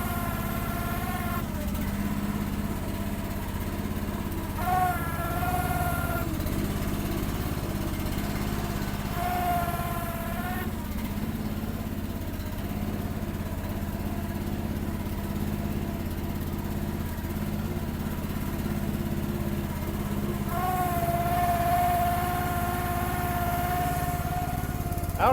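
Hydraulic pump on a Chinese-made machine warming up in cold, snowy weather, a steady mechanical whir over a low engine drone, with a rising whine that returns several times.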